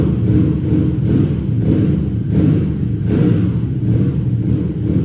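A BMW R12 nineT motorcycle engine with an Akrapovič exhaust idles loudly and is revved a few times, with a deep, throbbing rumble that swells and eases.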